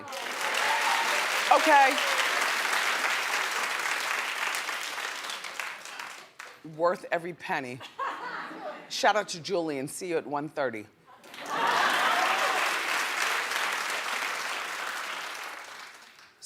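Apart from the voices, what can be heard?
audience applause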